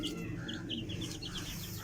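Aseel chicken chicks hatched in an incubator give faint, quick, high peeping chirps in a rapid repeated series over a low background hum.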